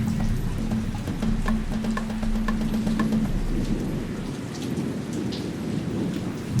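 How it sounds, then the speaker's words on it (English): Heavy rain pours steadily while deep thunder rumbles underneath, a nighttime thunderstorm at Shingwedzi Camp in Kruger Park in October, with a low droning hum in the first half and scattered drips and taps. "strong rain and thunder and lightning started and stayed until the early morning"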